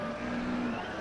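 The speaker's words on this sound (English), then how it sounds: "you can hear a bit of a rattling noise coming from it" A Formula Student race car, a non-aero entry, circles the skidpad at a historic event, giving a steady, fairly quiet engine drone with a faint rattle running through the whole moment.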